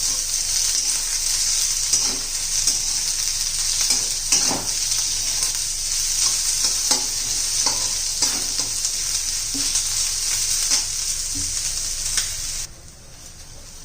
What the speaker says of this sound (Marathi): आता कांदा घालून घेऊया भाजून घेणार आहे